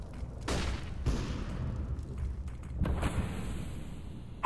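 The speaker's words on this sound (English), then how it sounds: "I'm throwing a flashbang." A flashbang grenade going off in Counter-Strike: Global Offensive, heard as a run of loud booming, crackling bursts over continuous game noise, with no talk.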